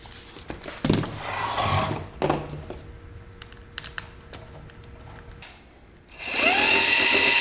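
Handling clicks and light taps on an RC LC70 Land Cruiser 4x4 truck lead into a loud, close power drill whirring steadily as it drives a screw into a body mount on the frame.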